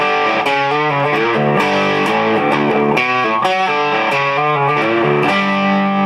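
A distorted electric guitar plays the power chords of a song slowly and loudly, each chord ringing out in a steady, deliberate sequence with no voice over it.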